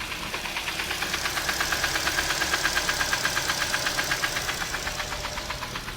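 A second-hand car's engine idles with a steady, rapid mechanical knocking, evenly spaced ticks repeating throughout at a constant moderate level, with no voices.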